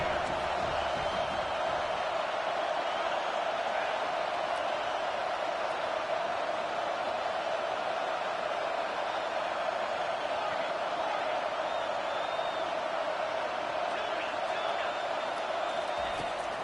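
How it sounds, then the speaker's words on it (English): A stadium crowd at a college football game on third down, a steady loud roar of many voices sustained evenly throughout. "decibels rising as the crowd gets behind this defense on third down."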